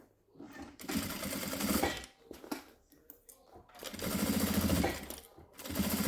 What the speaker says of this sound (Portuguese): Aí você costura os 2 lados, tá?